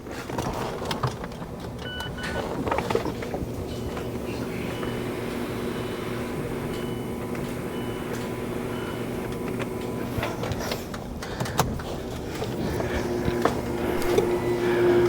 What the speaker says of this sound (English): I want to close the sunroof and then lift the back up